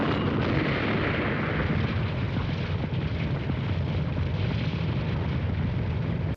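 A car exploding in the horror film C.H.U.D., a loud, sustained, deep roaring blast that rumbles on without a break, with no talking.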